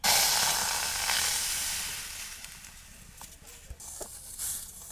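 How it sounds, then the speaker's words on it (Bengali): Tomato pulp hits a hot wok with a loud burst of sizzling that slowly fades to a softer crackle, with a few clinks and knocks toward the end. "এবারে আমি এই কোয়ারটা কড়াইতে ঢেলে দেবো।"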